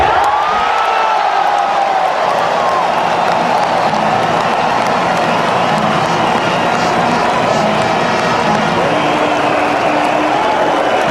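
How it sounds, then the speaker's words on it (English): Cricket stadium crowd in Hamilton roaring and cheering steadily, a loud, constant wash of voices with occasional whoops and a commentator speaking over it. "You listen to this crowd."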